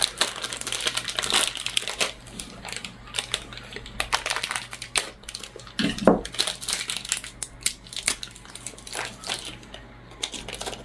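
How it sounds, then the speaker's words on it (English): A crinkly plastic MRE nut raisin mix packet being torn open and handled, with dense, close crackling and crunching in irregular bursts over a low steady hum. "And then we will open up our nut raisin mix"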